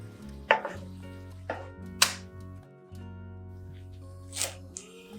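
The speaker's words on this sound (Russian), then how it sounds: "Пучок зеленого лука меленько нарезаю." A knife finely chops a bunch of green onions on a cutting board, giving a few sharp separated knocks against the board over a low background hum, no speech.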